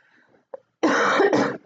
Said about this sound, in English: please forgive me for coughing